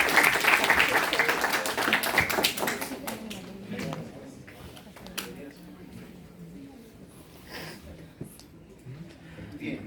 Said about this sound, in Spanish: Un voto de aplauso breve.